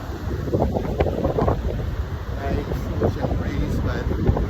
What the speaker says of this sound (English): Ocean breeze, but the wind, since it's already almost 4 o'clock, 5 o'clock, starting to get a little bit chilly.